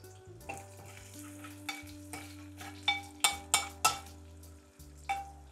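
Curry leaves fry in a pan while a utensil stirs them, with a low sizzle beneath a string of distinct metallic scrapes and clinks against the pan.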